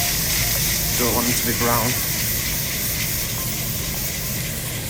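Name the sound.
garlic and ginger sizzling in a smoking hot pan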